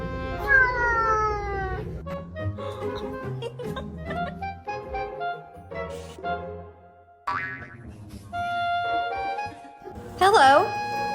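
A cat meows and yowls loudly in several drawn-out, wavering cries, mixed with cartoonish boing sound effects and bursts of other noise.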